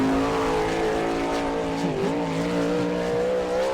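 Car 4J, a sprint car, screams around the dirt track at Attica, Ohio, during qualifying. The engine note is loud and sustained, with a brief dip and pitch change midway as it works through a turn, and no voices.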